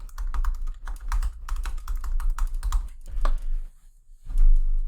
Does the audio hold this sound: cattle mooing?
no